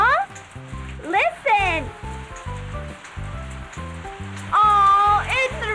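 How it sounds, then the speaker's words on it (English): Steady rain hisses as a constant wash of patter in a children's cartoon, running beneath bouncy background music and a voice speaking. "Oh, it's raining."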